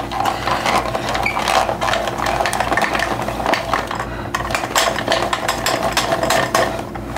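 An electric machine grinds and shreds Oaxaca cheese for a homemade keto pizza, giving a loud, steady mechanical whir with rattling, clattering texture that runs without a break.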